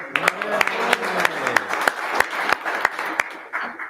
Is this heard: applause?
yes